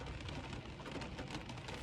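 Steady rain falling outdoors, a dense, even hiss of drops on surfaces with no break, fairly faint throughout and with no voices.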